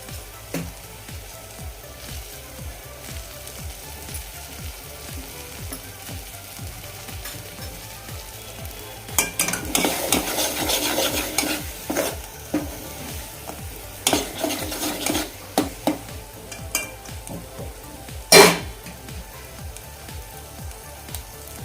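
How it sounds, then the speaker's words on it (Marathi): Spices and chopped coriander sautéed in hot oil in a pan, a steady low sizzle with a spoon scraping and stirring in bursts, clattering against the pan near the end. "एक दोन मिनटं आपण याला तेल सुटेपर्यंत परतूया"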